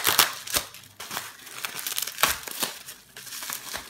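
Bubble wrap being unwrapped from Cisco HWIC cards close by, with irregular crinkling and crackling rustles and a few sharper tearing bursts.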